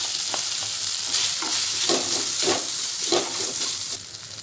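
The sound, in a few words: potato added to hot peanut oil, frying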